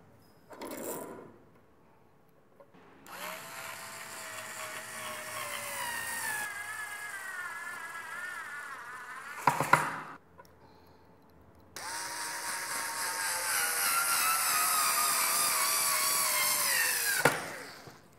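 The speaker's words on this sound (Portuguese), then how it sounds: "vou fazer a fixação das dobradiças com o parafuso." A power screwdriver drives screws into hinges on a wooden screen printing table, with several whirring bursts of rising pitch, short pauses between them, and a couple of sharp clicks, close and without speech.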